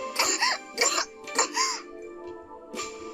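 Four harsh coughs from a Da Capo 2 visual novel sound effect, spaced apart, loud and close, with a rasping throat-clearing quality and no talk.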